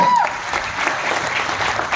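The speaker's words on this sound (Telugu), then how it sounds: "ఒక్కసారి గ్రేట్ రౌండ్ ఆఫ్ అప్లాజ్ అండి" Audience applause at a business motivation event in a hall, steady dense clapping lasting throughout, fairly loud and close, with a brief tone at the start.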